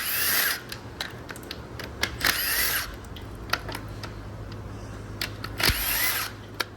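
A power tool, likely a drill or impact driver, works on the intake manifold of a flood-damaged BMW M52 2.8L engine from a Z3, in short bursts of whirring with ratcheting and clicks between, fairly close.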